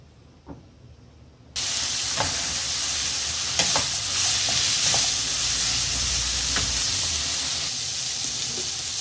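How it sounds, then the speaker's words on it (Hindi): Food for a bread sandwich fries in a pan, starting quiet and then jumping to a loud, hissing sizzle as it hits the oil, with spatula scrapes and clicks over the steady frying. "और इनको फ्राई करते हैं। ज़्यादा फ्राई नहीं करना, 3 से 4 मिनट।"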